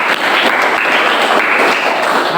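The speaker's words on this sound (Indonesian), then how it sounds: "Ya, tepuk tangan." Classroom audience clapping at a teacher-training session in Indonesia, a steady dense wash of applause that holds evenly throughout without a break.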